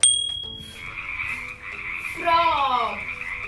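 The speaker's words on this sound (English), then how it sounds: "Frog." A frog croaks in a run of rising, rattling calls over a steady high electronic tone and a low rumbling background, close and fairly loud with no voices.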